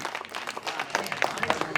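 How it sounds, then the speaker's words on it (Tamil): Audience clapping at a Tamil comic musical debate show (pattimandram) on Aadi 18, a dense patter of many hands, moderately loud and steady for a short burst. "நல்ல ஒரு கைதட்டு கொடுங்க பாப்போம்."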